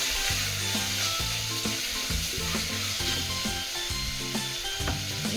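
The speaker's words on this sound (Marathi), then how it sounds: "कांदा मस्तपैकी फ्राय होतं तोपर्यंत आपण मसाला वाटून घेऊया" Onions frying in a pan, a constant close, loud sizzle with steady crackling and low rumbling bubbling, plus light scraping, and no speech.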